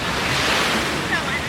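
Ocean surf and wind on a rocky Bahamas shore make a steady broad rushing roar, close and continuous, with gusts buffeting the microphone.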